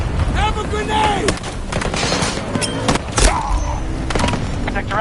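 A grenade blast and heavy gunfire in a Battlefield 2042 firefight, loud overlapping shots with thuds and booms, crowded with in-game voices and battle noise.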